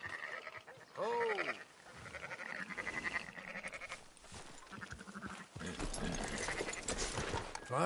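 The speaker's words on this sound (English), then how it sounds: "Fine sheep." Sheep bleating in the video game Red Dead Redemption 2, a short wavering bleat up front amid shuffling, rustling ambient noise, with a further flock sound later; no talk.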